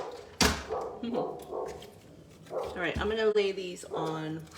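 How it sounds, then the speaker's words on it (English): A dog barks in a home, a few sharp barks and yips heard under someone talking close to the microphone. "I don't know if you can hear my dog barking."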